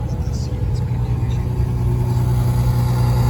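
A Ferrari F12 at an outdoor car show rumbles with a steady, loud low engine drone, nearby and constant, with crowd noise and faint talk around it.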